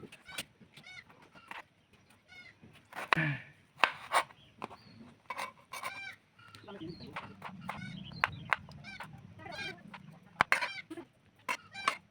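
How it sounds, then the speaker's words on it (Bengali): A knife chops a tomato on a board in a village kitchen, a steady run of sharp, close taps while chickens cluck and a rooster calls nearby, with a voice talking at times. "মাশরুম কাটা শেষ, এখন টমেটোটাকে কেটে নেব।"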